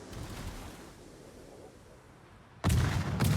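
Warship guns firing in the World of Warships naval game during a tournament match, with a low rumbling sea-like ambience that breaks into a sudden loud boom salvo and then a second blast.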